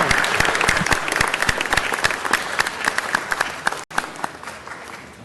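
An audience in a City Hall chamber applauds UCLA representatives, a dense, steady round of clapping from many hands that carries on for several seconds before thinning out.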